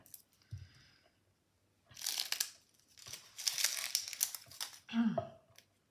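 The papery outer skin of an onion is peeled off by hand in a kitchen, crisp crinkling and tearing bursts coming in close clusters separated by quiet gaps.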